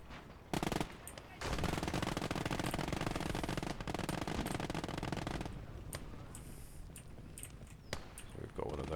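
Sustained machine gun fire in the WWII strategy game Call To Arms: Gates Of Hell, long loud rattling bursts close up with brief pauses and scattered shots, a voice talking over it.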